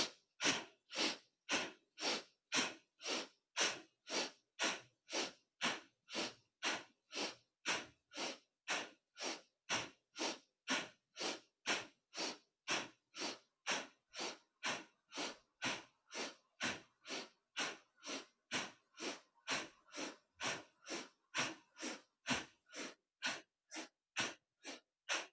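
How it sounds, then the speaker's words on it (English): Forceful rhythmic exhales from a yoga breathing exercise, about forty sharp nasal puffs in a steady fast series, close and even in loudness, with no talking. "start the second round of 30 exhales on your own"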